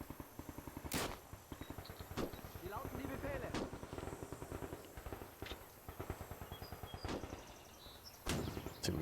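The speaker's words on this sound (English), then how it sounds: "We're going to go ahead and hit them with the guns." Gunfire in the WWII strategy game Gates of Hell, with sharp shots and heavy booms ringing out at intervals over a dense, continuous battlefield din of rapid firing, while a voice talks throughout.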